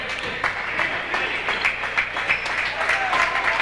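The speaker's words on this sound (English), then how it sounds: "the many people that follow Burr Burton here coming to their feet right now, cheering their team on" A home crowd at a boys varsity high school basketball game rises and applauds, steady rhythmic clapping with scattered cheers filling the gym at moderate volume.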